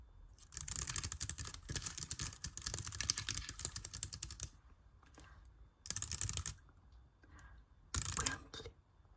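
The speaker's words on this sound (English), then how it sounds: "Typing feels comfortable, key travel is nice, and they do not feel too mushy." Typing on a Bigme foldable keyboard: dense runs of quick, light key clicks broken by short pauses, then two brief separate bursts of typing, close and clear with no voices.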